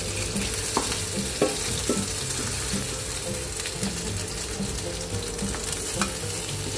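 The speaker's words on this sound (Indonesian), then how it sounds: "Digoreng sebentar." Spices with shallots and coriander fry briefly in a pan, a loud, dense sizzle with repeated scraping and tapping of a stirring utensil, close up and with no speech.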